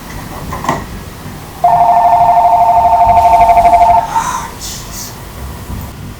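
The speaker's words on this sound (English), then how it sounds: "You may have heard the phone ringing in the background," A telephone rings in the background with a steady electronic warbling tone lasting a couple of seconds, clearly louder than the quiet room noise around it before stopping.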